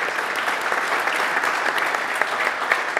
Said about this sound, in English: I think we should have another round of applause after that.